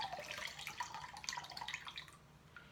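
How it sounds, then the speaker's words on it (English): Water drips and trickles as freshly dyed wet yarn is wrung out by hand, a soft, close, irregular patter of droplets with no talking. "I'm going to just sort of wring just a little bit of the water out"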